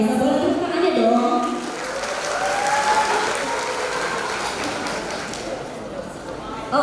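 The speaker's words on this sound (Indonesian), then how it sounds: "boleh tepuk tangannya dong" A crowd applauds steadily throughout at a university graduation ceremony, a dense wash of clapping with a voice speaking over it at the start.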